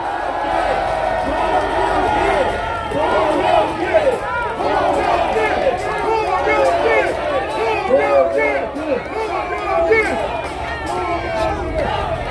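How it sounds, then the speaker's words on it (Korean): A political rally crowd in South Korea cheers and chants a party leader's name in unison, rhythmic shouted syllables repeating loudly over a busy, murmuring crowd. "우리 송영길 대표 연호로 환호합시다"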